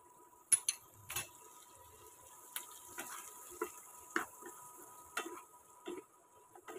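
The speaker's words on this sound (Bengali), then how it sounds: "ভালো করে নাড়াচাড়া করে নিই।" Spoon or spatula stirs chicken with chopped ginger, garlic and vegetables in a pan, making a string of light, uneven clicks and scrapes against the metal over a soft background hiss, close and fairly quiet.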